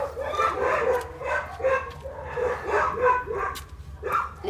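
Several dogs bark repeatedly in a rough, overlapping rhythm, fairly loud and close, continuing throughout with a low background hum.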